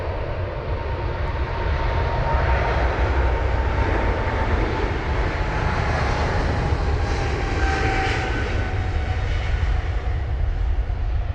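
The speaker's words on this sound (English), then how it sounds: "Got the American Airlines aircraft on the move now off to Dallas. The 777-300ER with flight number AA21." An American Airlines Boeing 777-300ER jet departs Heathrow in wet, spraying conditions, its engines a loud, steady, close roar that holds for the whole stretch, with no voices.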